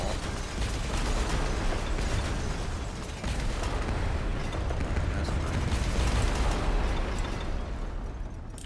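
A bridge being demolished in the transport game Transport Fever, a sustained rumbling, crumbling roar of breaking structure with pops and creaks, steady and fairly loud before tapering off at the end.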